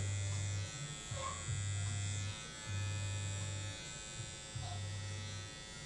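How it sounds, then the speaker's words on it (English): Electric hair clipper buzzing steadily as it cuts hair during a high taper fade, hum rising and dipping in short strokes as hair is fed through, close and fairly quiet. "make sure that I'm feeding the hair through my clipper"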